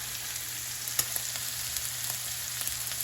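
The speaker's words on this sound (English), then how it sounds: "So now steak has been cooking for about 3 minutes, and see, it's already starting to brown." Hibachi steak sizzles as it browns in a hot pan, a steady close hiss dotted with small pops and crackles throughout, no voices.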